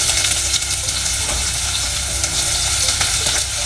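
Onion sizzles in a hot pan for a broccoli soup, a dense, loud, close frying hiss with small stirring crackles throughout and no talking.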